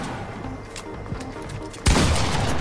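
Gunshots in the Fortnite video game start with scattered faint shots, then a loud, dense burst of fire erupts abruptly and continues steadily to the end.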